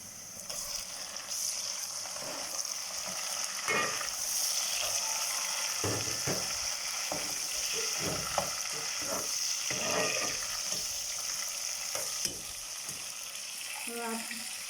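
Onions for okra fry sizzle in a pan as tomatoes go in, with a steady frying hiss broken by spoon scrapes and clatters while a voice talks intermittently.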